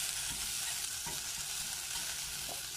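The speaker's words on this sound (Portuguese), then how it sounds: "Ó, eu vou fritar ela," Tuscan sausage frying in a pan, a soft, even, continuous sizzle with faint occasional pops, close and alone without talk.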